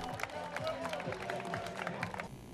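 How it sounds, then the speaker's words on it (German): An outdoor audience at a VfL Wildenfels football ground applauds the switch-on of new floodlights, with steady scattered clapping and murmuring voices. "Applaus vom Publikum."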